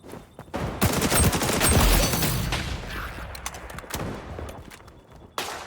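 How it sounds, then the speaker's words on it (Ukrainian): Rapid bursts of gunfire in the video game XDefiant crackle loudly and continuously, with rattling automatic shots and echoing cracks that fade near the end. "інколи тобі доводиться прям дуже багато стріляти"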